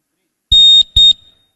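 A quiz buzzer at a university capital-market competition sounds two sharp electronic tones, a longer beep then a shorter one, loud and close in an otherwise quiet room.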